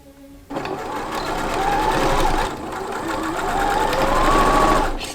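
A sewing machine runs steadily on cosplay skirt fabric, with a brief pause partway through.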